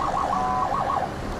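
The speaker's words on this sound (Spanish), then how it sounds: "Un sistema de sirena para llamar la atención y que la policía llegue antes." An armored car's siren system wails in a quick rising-and-falling warble, loud and steady against a busy traffic-like background, with no voices.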